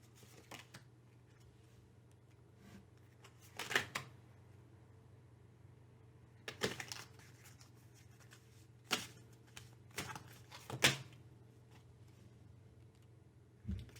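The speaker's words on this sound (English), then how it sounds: "I got a card that didn't feel right, so I shuffled again" Tarot or oracle cards shuffled in bursts, soft riffling flutters and taps recurring every couple of seconds over a quiet low hum.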